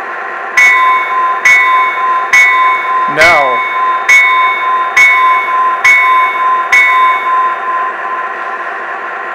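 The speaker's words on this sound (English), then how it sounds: "You can also set the volume of the bell." A train control system's bell rings in a steady rhythm, about eight evenly spaced clangs, loud and close, with a brief spoken word partway through.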